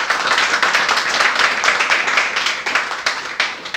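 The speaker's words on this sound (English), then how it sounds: "A bit of clapping for him," An audience claps for an arriving presenter at an English institute event in Lahore, a steady, dense patter of many hands held close and fairly loud throughout, with no talking.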